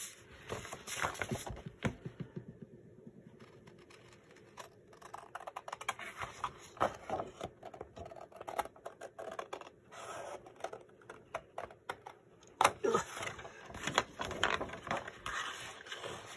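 Paper is cut by hand to make wallpaper pouches, a series of soft, scattered snips and rustles up close, quiet and irregular with pauses between bursts.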